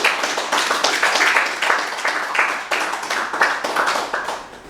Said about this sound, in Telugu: గురువులందరికీ కూడా ఒకసారి గట్టిగా క్లాప్ చేసుకుందాం